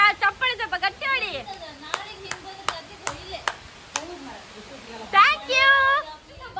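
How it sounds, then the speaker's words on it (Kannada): Handclaps during a Yugadi festival gathering, a sparse series of distinct claps spaced about half a second apart, with people talking before and after. "ಎಲ್ಲರೂ ಚಪ್ಪಾಳೆ ಹೊಡಿರಿ, ಚಪ್ಪಾಳೆ ಹೊಡಿರಿ, ಗಟ್ಟಿ ಹೊಡಿ."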